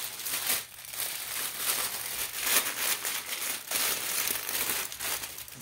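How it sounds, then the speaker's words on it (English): Plastic packaging around a shirt crinkles continuously up close, with dense crackling rustles and sharper crunches as the bag is handled and opened, no talking. "sorry about the crinkling"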